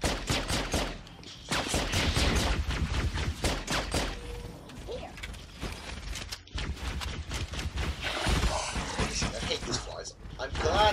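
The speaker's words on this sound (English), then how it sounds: "Shit, being shot at." Rapid bursts of gunfire from the Halo 3 ODST video game crackle through the whole stretch, dense and overlapping, with a player talking over the shooting throughout.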